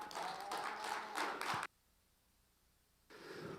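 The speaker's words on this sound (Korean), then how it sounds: "여러분 큰 박수로 환영해 주시기 바랍니다" A forum audience claps to welcome a presenter, a brief burst of applause that cuts off abruptly, falls silent, then resumes at a similar level.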